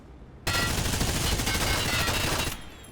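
Sustained automatic gunfire from the shooter game Hired Ops (Contract Wars 2.0) erupts abruptly as one loud, dense two-second burst of rapid shots, then cuts off, with no voices.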